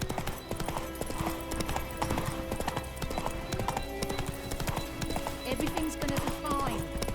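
The horse Roach in The Witcher 3 clip-clopping at a quick gait, a dense rhythmic patter of hooves under game music, with a brief whinny and voices in the background.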